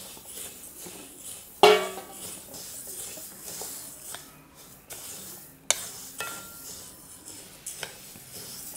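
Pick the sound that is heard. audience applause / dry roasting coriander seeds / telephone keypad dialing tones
dry roasting coriander seeds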